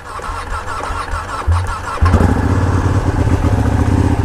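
A 200hp superbike engine cranks and catches, dropping into a loud, throaty idle that rumbles close and steady.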